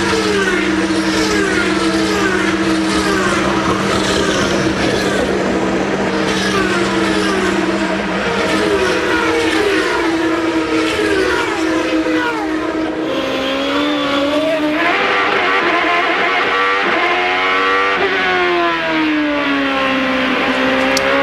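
Champ Car race cars at Elkhart Lake roar past continuously and loudly, engines screaming at high revs with rising and falling pitch as they pass and change gear.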